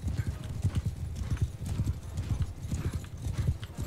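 Horse hooves in the video game Bannerlord, a rapid, close clip-clop of galloping strides in a steady rhythm with faint game noise behind.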